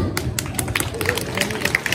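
Applause from an audience at a Balinese drama and dance performance, a burst of scattered claps over crowd murmur and chatter, with people talking throughout.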